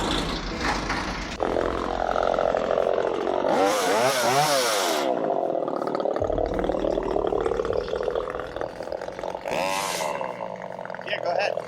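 A chainsaw cutting storm-damaged trees whines and revs loudly, rising sharply as it bites into the wood in two bursts, with people talking nearby between cuts.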